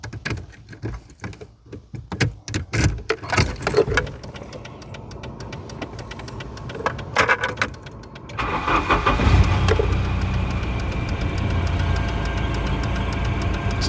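A car is tried after a fresh oil change, new spark plugs and a new air filter: clicks and clunks first, then the engine cranks and catches into a steady close idle.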